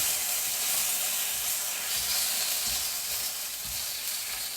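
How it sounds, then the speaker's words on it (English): Banana skin bacon sears in a hot pan, giving a steady, close, fairly loud sizzle with a bright hiss and some soft crackle throughout, and no talk. "So I'm popping them in the pan"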